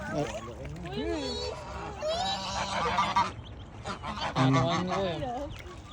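A duck honks repeatedly near the Al Rafisah dam in Khorfakkan, UAE. The calls are loud and close, with people talking over and between them.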